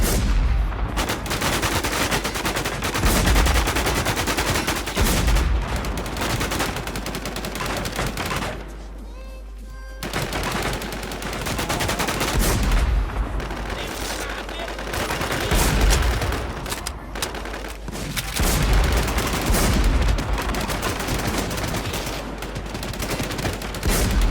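Gunfire in the game Warz, a dense, continuous barrage of rapid shots and automatic bursts filling the whole stretch, loud and near, with one brief lull before the shooting resumes.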